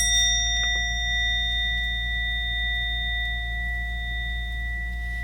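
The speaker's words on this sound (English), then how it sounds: "And I offer the sound of the bell." A single bell is struck once and rings out with a clear, sustained tone that fades slowly over a low, steady hum.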